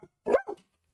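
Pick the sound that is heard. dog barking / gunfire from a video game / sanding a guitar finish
dog barking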